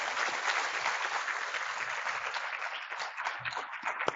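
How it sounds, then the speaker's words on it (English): A crowd claps steadily for several seconds, a dense, even wash of applause that holds at full strength before thinning slightly at the end. "Please give a round of applause to our founding partners."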